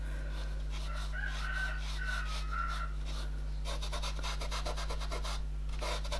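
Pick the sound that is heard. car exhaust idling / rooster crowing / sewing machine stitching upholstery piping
rooster crowing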